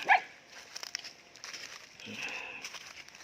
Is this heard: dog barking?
yes